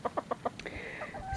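Backyard chickens cluck in a coop, four quick evenly spaced clucks followed by a drawn-out warbling call, heard up close and clear with no talk.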